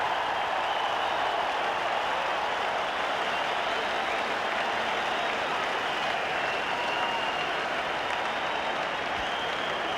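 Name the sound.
cricket crowd cheering and applauding a big hit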